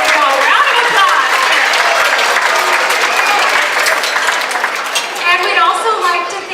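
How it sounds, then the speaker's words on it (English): Audience at a speech event giving a sustained round of dense clapping, loud and close for several seconds, tapering slightly toward the end. "There we go, round of applause."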